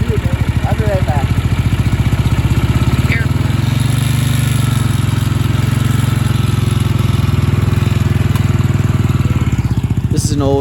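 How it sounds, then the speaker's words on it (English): An old 1970s Honda 350 motorcycle engine runs loud and close at a steady idle, its rapid even firing pulses continuing throughout with a slight rise near the end. "This is an old 1970s Honda 350 motorcycle."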